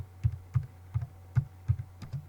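Search query typed on a computer keyboard, about six soft, evenly spaced key thuds over a low electrical hum, close and without speech.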